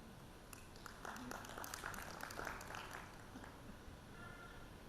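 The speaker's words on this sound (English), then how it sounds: "Thank you for that small applause." Small audience at a smart LPG system launch event gives light, scattered applause, a few sparse claps that are faint and brief against a quiet room.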